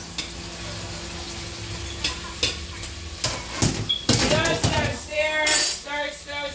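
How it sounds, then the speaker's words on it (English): Gumbo with chicken, turkey kielbasa and beef sausage sizzles steadily in a pot, with clinks of a utensil stirring and scraping against the metal, close and fairly loud. "You hear that sizzle, you know it's coming together."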